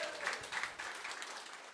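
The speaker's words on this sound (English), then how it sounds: "Keep clapping, guys." A comedy club audience applauds the waitstaff in a short, moderately loud burst of clapping with a voice mixed in.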